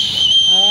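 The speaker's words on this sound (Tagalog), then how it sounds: "Pwede palang sumipol dito." A whistle built into an emergency tumbler is blown once, a short, loud, steady shrill tone, heard near and alone.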